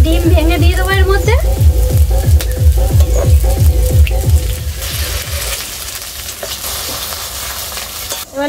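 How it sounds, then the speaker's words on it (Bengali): An egg cracked into a hot pan with fried potato, carrot, cumin powder and Maggi masala, giving a loud steady sizzle with stirring scrapes, a brief rhythmic pattern early on, then the frying settling into a softer hiss. "একটা ডিম ভেঙে দিয়ে দেবো এর মধ্যে।"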